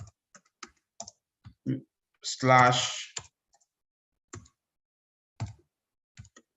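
Keys clatter on a computer keyboard as a command is typed, sparse close clicks and taps scattered across the stretch, with a brief vocal sound in the middle.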